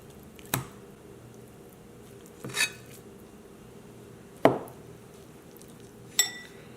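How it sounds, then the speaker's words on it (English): Knife cutting through a block of tofu for a stir-fry with bean sprouts: four sharp, separate knocks of the blade on a cutting board, spaced a second or two apart, fairly close, with quiet kitchen background between. "First, I'm going to cut my tofu."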